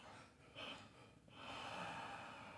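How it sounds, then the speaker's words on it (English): Slow breathing during a guided meditation, a couple of soft nasal exhales and a breathy rush, faint and close in a quiet room with low background hiss. "three exhales"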